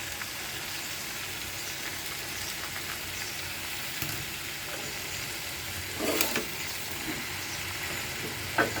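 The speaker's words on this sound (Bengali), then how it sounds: "এখন ভাজিটা করে নিচ্ছি।" Potato bhaji fries in hot oil in a small wok, giving a soft, steady sizzle with a couple of brief stirring clatters near the end.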